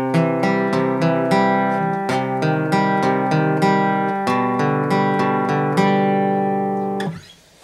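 Strummed acoustic guitar chords ringing out one after another, walking down from C with the bass notes stepping downward, played alone and up close before fading to quiet.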